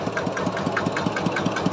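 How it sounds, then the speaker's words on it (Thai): Kubota ET110 11-horsepower single-cylinder engine idling on a four-wheel farm tractor, a steady rhythmic chugging with regular knocks about five per second, close and moderately loud, no voices. "มาพร้อมกับเครื่องยนต์คูบูต้า ET 110 11 แรงนะครับ เครื่องเดิมดีแน่นนิ่ม สตาร์ทติดง่ายครับตัวนี้"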